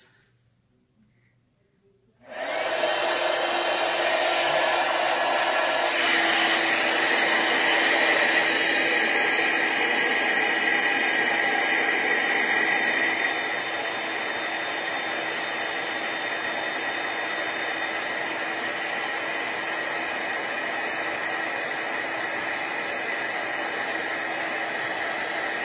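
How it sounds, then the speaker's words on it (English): Heat gun blowing hot air to melt embossing powder on a handmade card, switching on abruptly with a loud steady roaring hiss that continues unbroken, easing slightly partway through. "I'm going to turn this on and we are going to heat emboss."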